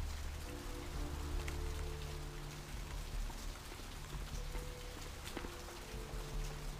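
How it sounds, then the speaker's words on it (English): Steady rain falls in Vampire: The Masquerade, a soft, even patter on surfaces with scattered drops, continuous and fairly quiet with no talk. "It is raining."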